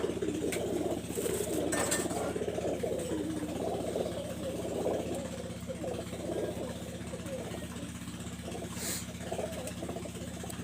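A pair of Teddy pigeons cooing softly in a loft, their low murmurs running steadily beneath a constant engine-like hum, with occasional voices in the background.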